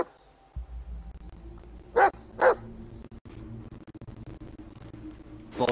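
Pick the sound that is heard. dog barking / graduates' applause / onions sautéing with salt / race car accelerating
dog barking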